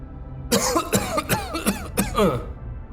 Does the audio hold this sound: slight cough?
yes